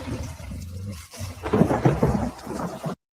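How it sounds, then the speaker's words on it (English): Rain falls steadily outdoors under a heavy, rolling rumble of thunder that swells to a loud peak midway, then cuts off abruptly. "So the rain's not letting up?"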